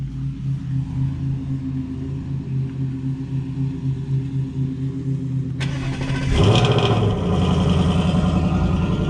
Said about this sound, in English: get this cold start